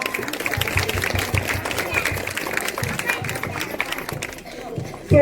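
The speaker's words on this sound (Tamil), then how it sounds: "இந்த ஆசிரியர்களுக்காக ஒரு கைத்தட்டுதல் கொடுத்துடலாமா?" School audience in a crowded hall claps for the teachers, a mid-level patter of applause mixed with chatter and voices, tapering off near the end.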